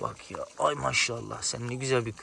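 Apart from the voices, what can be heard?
No everyday noises stand out.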